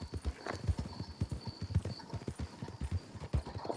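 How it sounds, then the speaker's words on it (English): Horse hooves clip-clop in Red Dead Redemption 2 at a steady walking rhythm, close and distinct, with each footfall landing as a sharp knock over quiet ambient background. "Put this horse away."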